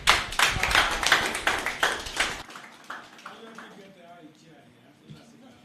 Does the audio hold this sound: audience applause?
yes